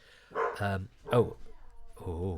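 A dog barks a few times nearby, loud and deep, with short pauses between the barks.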